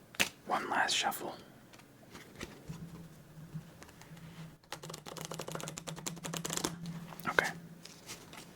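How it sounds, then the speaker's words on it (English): A deck of playing cards is shuffled close up for a solitaire game, with a quick riffle burst followed by longer stretches of crisp fluttering and patter. There is soft low breathing or room noise underneath. "One last shuffle."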